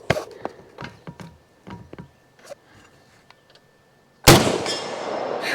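FN SCAR rifle firing .308 Winchester through a very loud muzzle brake: a single sharp, powerful blast near the end with a long booming tail, preceded by quieter clicks and handling noises outdoors.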